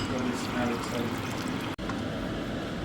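Plain yogurt and water are poured into a chicken biryani pot, making a continuous liquid pour and trickle that runs for a few seconds, with a brief break partway.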